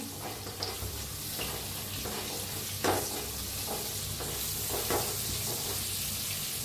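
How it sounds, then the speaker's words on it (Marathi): Masala with turmeric and red chili powder sizzles steadily in a pan for ridged gourd, with a few soft scraping strokes of a spoon over the constant frying hiss. "हळद अर्धा चमचा लाल तिखट छान मिक्स करून घेऊया"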